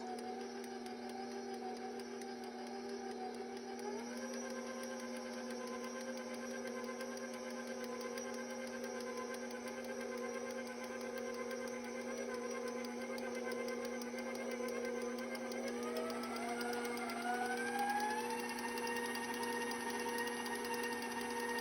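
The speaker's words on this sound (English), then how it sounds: "Mix it on low speed when adding the dry ingredients until enough is incorporated, and then you can speed the mixer up." Electric stand mixer running steadily on low speed through cookie dough dry ingredients for Hershey Kiss cookies, a continuous motor whine that rises in pitch near the end as the speed is increased, alone with no talk.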